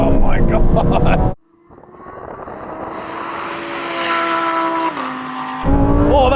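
Sports cars, a Ferrari 296 GTB, McLaren 750S, Lamborghini Huracán Performante and Porsche 911 Turbo S, launching from 30 mph in second gear in a drag race, one engine roaring as it builds and shifts, with excited talk before and after.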